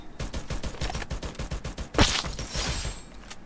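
A shooting video game plays a sniper rifle shot: one loud, sharp report after a run of steady rhythmic thumps, followed by a bright ringing tail.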